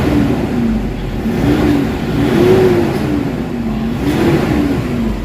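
A Toyota Hilux engine, just repaired after low power, throttle delay and a non-working turbo, revs up and down repeatedly in smooth close rising and falling swells, with no talking over it.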